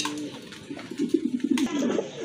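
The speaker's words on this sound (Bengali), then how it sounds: "এক জোড়া ঝর্ণা শাটিন কবুতর" A pair of Jharna satin pigeons coo close by, their low, throaty, rolling calls repeating and swelling in the middle of the clip against a quiet room background, with no speech.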